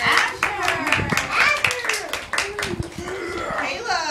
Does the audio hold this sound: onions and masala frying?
no